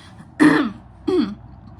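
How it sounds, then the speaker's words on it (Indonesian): A woman coughs and clears her throat twice in quick succession, close and fairly loud, the second burst shorter than the first, with no talk in between. "aduh sorry aku batuk teman-teman"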